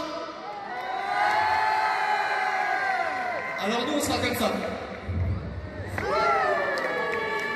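A lively crowd cheers and shouts loudly throughout at a stadium inauguration, with a voice speaking over the din and a surge of whoops near the end.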